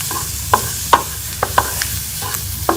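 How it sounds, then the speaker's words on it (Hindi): Potato and coriander are stirred into a frying masala filling in a pan, with a soft continuous sizzle broken by about seven sharp spoon scrapes and knocks, close and alone. "हम आलू और धनिया को जो है वो मसाले के साथ अच्छी तरह से मिक्स कर लेंगे।"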